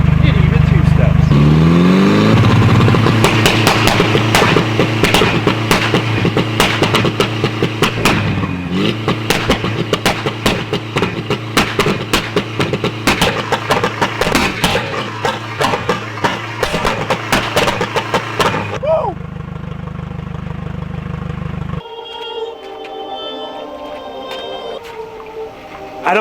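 Car doing a burnout on a pumpkin, loud close engine revving with rapid crackling two-step limiter pops and tire noise, then cutting off to a quieter idle and faint background sounds.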